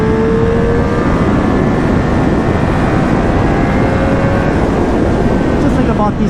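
A 2021 Triumph Street Triple RS motorcycle on a test ride, its engine droning steadily with rising and falling tonal whine under heavy wind rush, loud and continuous throughout.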